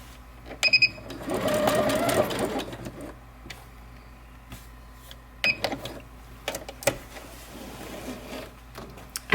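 Home sewing machine stitching a fabric heart onto a towel, a short burst of close, steady needle whirring followed by scattered clicks and handling noises as the threads are trimmed.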